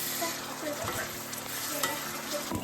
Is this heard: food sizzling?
yes